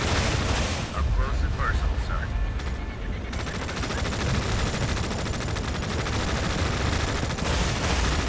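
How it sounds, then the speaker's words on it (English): Continuous gunfire and rumbling battle noise from the video game Tom Clancy's EndWar, dense bursts of shots and blasts filling the whole stretch at steady loudness. "Why is that guy shooting at a sign?"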